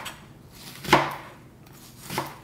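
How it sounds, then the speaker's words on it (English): Knife cutting food into wedges on a board: two separate close, crisp chops about a second apart, the first louder, with no one speaking. "And cut it into wedges."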